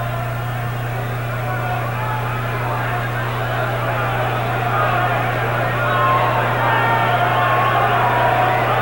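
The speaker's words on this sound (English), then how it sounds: "this crowd at Wembley now really roaring Finnegan back into this" A boxing crowd at Wembley in 1972 roars steadily throughout, a broad sustained wall of cheering that swells slightly near the end, with a constant low hum underneath.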